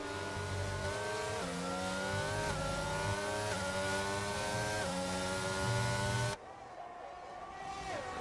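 Aston Martin Formula 1 race cars in the F1 22 game at the British GP, engines droning loud and steady with repeated rising and falling pitch sweeps as they battle, then cutting to a quieter, lower hum near the end.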